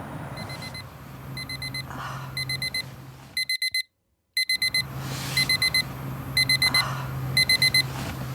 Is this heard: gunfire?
no